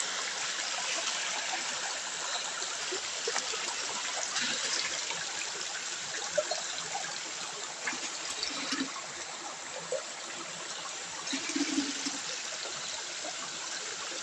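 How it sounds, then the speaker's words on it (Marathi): A babbling stream of clear spring water burbles steadily and softly nearby, a continuous gentle trickle with small splashes and no voices. "हा एक ओढा आहे खळखळणारा"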